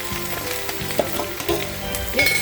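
Onions frying in a pan for a roasted-coconut beef curry, a steady close sizzle with a few soft stirring knocks and scrapes, no talk.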